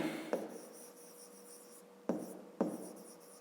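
A pen scratches across paper while a diagram is drawn for a fifth-grade math exercise: a faint continuous rubbing stroke broken by three sharper scraping marks, close and quiet, with no one speaking.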